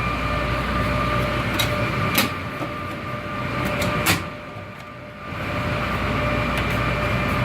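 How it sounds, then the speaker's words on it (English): Steady loud mechanical hum and whir of an air handler fills a noisy mechanical room housing a Square D racked motor starter, with faint metallic clicks and a brief dip in the drone, no talk. "It's a mechanical room. It's a little noisy."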